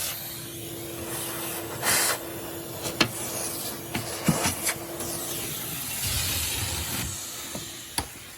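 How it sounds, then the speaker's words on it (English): A steady, quiet airy suction hiss through the hose of a DIY central vacuum with the unit out in the garage, with a few soft bumps, clicks and brief louder whooshes along the way. "So now there's air suction come through the hose."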